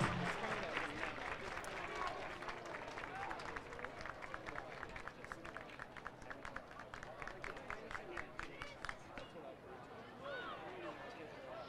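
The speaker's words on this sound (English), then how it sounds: "Everybody clap your hands." Spectators at a college baseball game clap in a steady, rhythmic beat that goes on for several seconds. The crowd is fairly distant, and voices are heard over it.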